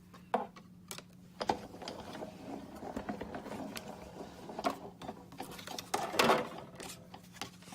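Electric sewing machine stitching through scored cardstock along the score line of a handmade card, a steady quiet mechanical whir with light clicks and occasional louder taps, close up with no talking.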